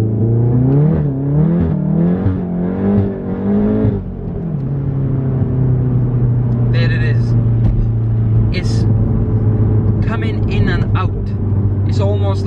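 A Volkswagen Golf R MK7 accelerates hard in third gear, its engine note rising in stepped pulls over the first few seconds before settling into a steady drone, with someone talking over it.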